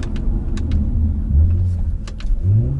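A 2018 Audi RS5 in dynamic mode with its exhaust open, a loud close low engine rumble with small muffled pops and crackles scattered through it.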